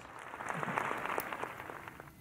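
Brief applause in the French National Assembly for a departing minister, a soft, steady wash of clapping heard at a distance.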